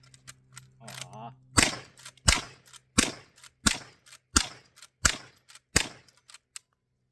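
Rapid gunshots from a .357 Magnum rifle, eight sharp, loud cracks fired in a fast, even rhythm with brief metallic action sounds between them. A voice is heard faintly before the first shot.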